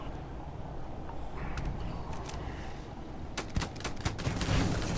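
Gunfire and a grenade blast in the video game Starfield: a steady rumbling battle bed, then several sharp close cracks and a bursting explosion rising toward the end.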